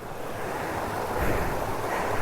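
Water rushes steadily over a rock slide on Vathalmalai, giving a broad, continuous wash that swells slightly midway, with no voices present.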